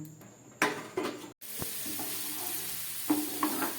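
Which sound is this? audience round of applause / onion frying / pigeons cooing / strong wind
onion frying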